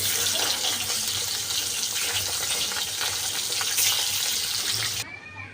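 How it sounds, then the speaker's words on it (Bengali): Rohu fish pieces frying in hot oil, a dense loud hiss of bubbling oil that runs steadily and then drops off abruptly near the end. "এই বাকি মাছগুলো আমি ভেজে নিচ্ছি।"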